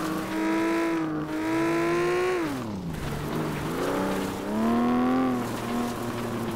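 Race car engine in the video game Flatout, the car badly damaged, revving loudly and steadily with pitch rising and falling through gear changes, a dip and recovery midway, close and continuous with no talk.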